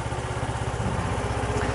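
KYMCO Racing S125 scooter engine idling close by, a steady low throbbing putter with even pulses and no revving across the brief stretch.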